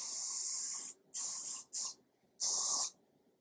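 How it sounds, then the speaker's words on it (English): Taft Power Hair Lacquer hairspray hisses from an aerosol can in four close, loud bursts, two long and two short, separated by brief silences. "Then I'm going to go back into my hairspray."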